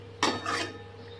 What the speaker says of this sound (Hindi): लगातार चलाते हुए हमने इसको 2 मिनट पका लिया है